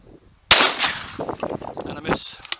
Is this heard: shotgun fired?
yes